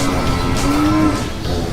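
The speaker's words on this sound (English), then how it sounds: "Cows say moo as a way to communicate." A cow lets out one long, low moo, close and loud, with a steady drawn-out tone lasting about a second over a noisy outdoor background.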